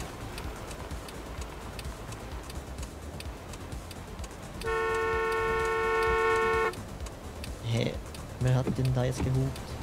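In the Taxi Life city driving simulator game, a car horn blares in one sustained honk of about two seconds over background traffic noise, followed by a few shorter toots; someone talks over the game sounds.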